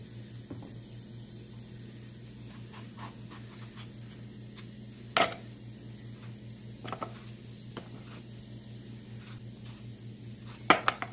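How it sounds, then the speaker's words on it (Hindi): Quiet kitchen sounds while peeled bottle gourd (lauki) is cut with a knife, with scattered soft taps and clicks of the blade on a board and a few sharper knocks against a low steady hum. "अब हम लौकी को काट लेते हैं"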